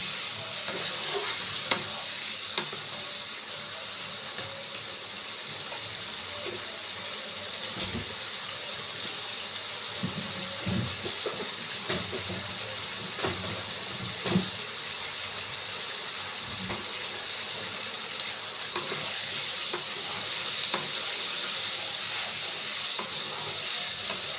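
A spice mix frying in a pan sizzles steadily as hot water goes in, a constant bright hiss with scattered pops and scraping stirs throughout, fairly close and with no talking.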